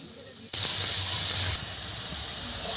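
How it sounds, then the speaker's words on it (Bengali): Potato pieces go into hot oil with bay leaf and dried chilli for a fig curry, setting off a sudden loud sizzling hiss that swells for about a second, then settles into a steadier, softer fry. "এবার আমি আলুটা ভেজে নেব।"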